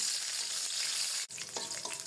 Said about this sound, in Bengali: মরিচ পেঁয়াজ রসুন ভাজা হলো